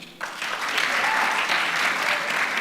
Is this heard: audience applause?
yes